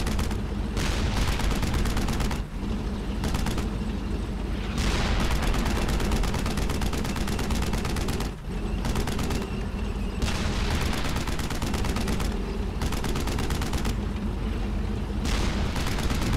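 Sustained bursts of rapid gunfire with booming shots and cannon fire in the video game Brothers In Arms: Hell's Highway, dense and loud, with only brief pauses between volleys.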